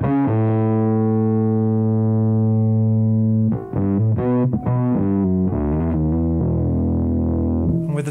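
A bass guitar played through an MXR M85 distortion pedal, set with less distortion and more dry signal, holds a long sustained note and then moves into a run of punchy notes with a mildly gritty edge.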